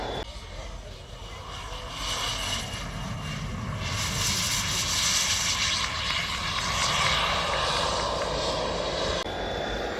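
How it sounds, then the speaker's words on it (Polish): A jet aircraft takes off at an airshow in Racibórz, its engine roar swelling and holding loud and broad for several seconds, with people talking underneath. "a teraz na przykład odrzutowiec wystartował"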